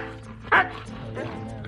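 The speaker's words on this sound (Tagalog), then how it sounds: "Ito na ang ating maligalig na aso." A lively pet dog at home gives one short, sharp bark amid a soft background of people talking.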